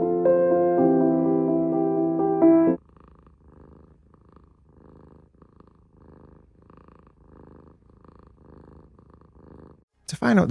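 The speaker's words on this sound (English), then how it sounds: "here's our gorgeous rescue cat, and her name is Pancake." Pancake, a rescue cat, purring softly and rhythmically up close, with steady pulsing breaths following a loud musical chord at the start.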